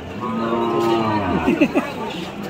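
At a rural cattle market, a cow moos loudly and close by in one long, drawn-out low call that breaks into a few rough grunts, over faint background bustle.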